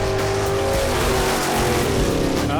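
A Chevrolet Monte Carlo drag car makes a pass at Area 51 Dragway in New Mexico. Its engine gives a loud, steady, high-revving roar throughout, with no voices over it.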